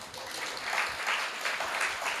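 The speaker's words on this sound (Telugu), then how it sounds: "చప్పట్లు కొట్టాలా." A church congregation at a Telugu sermon claps together in a rhythmic beat, repeated soft bursts of many hands at an even pace, moderately distant and without speech.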